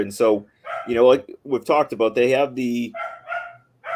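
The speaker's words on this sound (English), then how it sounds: "You could probably hear the dogs barking in the background." Dogs bark and yip in the background, sharp overlapping woofs heard under someone talking steadily in the foreground.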